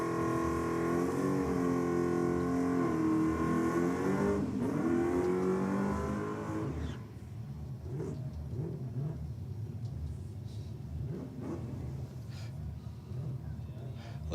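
Drag racing cars, an Audi against a Holden HG, with a loud sustained engine roar rising in pitch under load, then fading into lower rumbling and idle as a voice talks over it.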